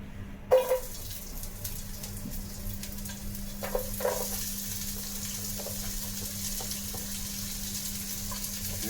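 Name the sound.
onion frying in hot oil for crab masala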